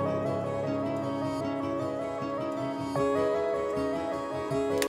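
Dry guitar starter loop from Soundtrap's Ascent pack with no effect applied: layered bright guitar chords and sustained tones play continuously at a steady level, with a chord change midway and no voices.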